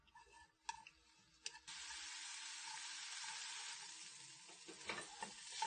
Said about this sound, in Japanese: 最後に先ほどのフライパンに舞茸を入れてお水を少し入れて焼いていきます。